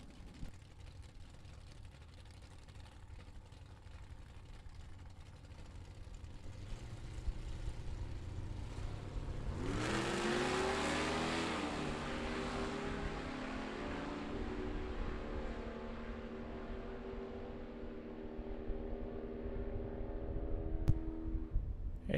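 A vintage 1955 Chevy and a 1927 Ford Coupe launch side by side at a drag race, a low engine rumble building to a loud roaring pass midway, then fading into a steady drone with crowd ambience.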